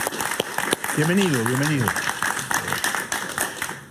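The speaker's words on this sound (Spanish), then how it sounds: "Un aplauso para él, por favor." Audience applause welcomes an octogenarian guest onto a TV talk show studio set, a dense patter of clapping running steadily beneath a voice calling out a greeting.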